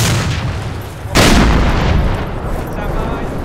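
A weapon fires in a military video game, one heavy boom cutting through a steady rumbling background and then fading away.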